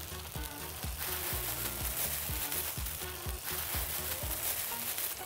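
Bologna and bacon frying on a flat griddle: a constant hiss of sizzling fat under a regular rhythm of spatula scrapes and taps, close and fairly loud.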